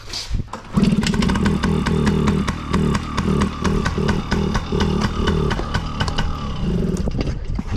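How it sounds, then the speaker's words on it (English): A Yamaha PW50 mini dirt bike engine starts and runs, a loud, close two-stroke buzz with pulsing rhythm and small revs throughout. "Grab the little mini bike, or the little dirt bike."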